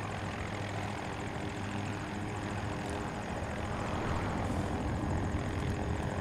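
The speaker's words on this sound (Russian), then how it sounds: "Слушай, а маленький вертолетик ничего такой." A small helicopter flying in Battlefield 2042, with a steady whirring rotor and engine drone and a rapid blade chop, continuous and moderately loud with no talk over it.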